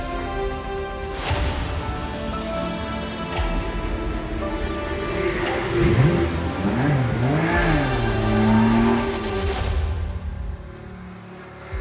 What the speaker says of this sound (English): Ajith Kumar Racing go right by behind me